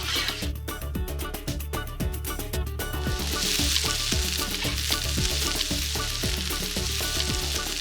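Sofrito sizzles steadily in a wide paella pan set over a smoky wood fire, a continuous close frying hiss with scattered stirring clatter and a brighter burst of crackle midway.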